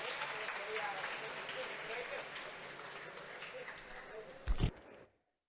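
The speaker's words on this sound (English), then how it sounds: "Another round of applause" Audience applause closing a panel debate at a conference, a faint, steady wash of clapping with a brief louder burst near the end before cutting off.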